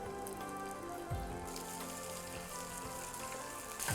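Sliced onion sizzles softly in a pan with ginger, curry leaves and garlic, a faint, even crackle with a couple of low knocks, likely from a utensil against the pan, and no talking.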